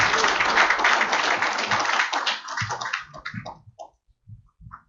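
Audience clapping at an evening company event celebrating a team's first year, loud and dense for about two seconds, then thinning into scattered claps that fade out.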